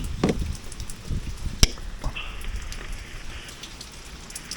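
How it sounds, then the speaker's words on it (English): Heavy rain pounds steadily on surfaces around an electric car at a charging stop, a dense continuous patter with one sharp knock partway through, no voices. "Oh my gosh, it's raining so hard."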